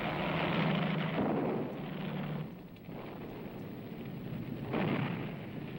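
Heavy WWII battle gunfire at the Salerno beaches, a dense continuous roar of distant artillery and rifle fire with swelling bursts, loud and sustained throughout with no talk.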